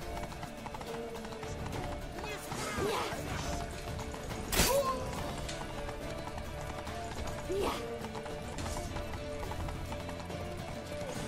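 Horse hooves clip-clop in a steady rhythm through the Witcher 3 video game, moderately loud over ambient game sound, with a sharp crash midway and a voice speaking briefly in between.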